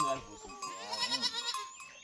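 Goats bleating in a farm pen, several drawn-out wavering calls overlapping near and loud, with a person's voice underneath.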